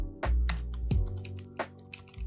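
Close, crisp keystrokes on a computer keyboard, a short uneven burst of taps with a few heavier thumps, as if a spacebar or enter key is pressed, and no speech.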